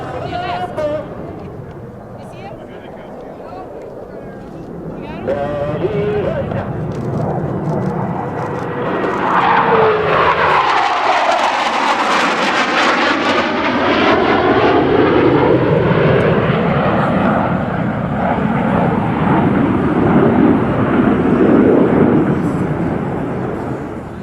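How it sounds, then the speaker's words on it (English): U.S. Navy Blue Angels jets flying a diamond aileron roll at the New York Airshow, a loud rising and falling jet roar that sweeps past overhead, with an announcer talking over the engines. "Will simultaneously roll their aircraft 360 degrees as they perform the diamond aileron roll."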